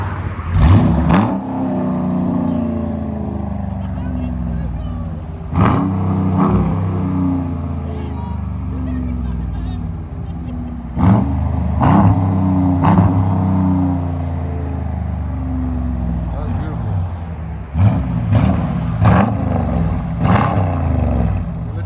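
A 2026 Dodge Durango GT with a 5.7-liter HEMI V8, Black Widow exhaust and muffler delete revs hard in repeated sharp bursts, with a deep rumbling idle between throttle blips, loud and close.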